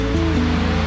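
Waterfall rushing in a loud, unbroken roar heard from close range, with a low steady hum underneath the wash of water.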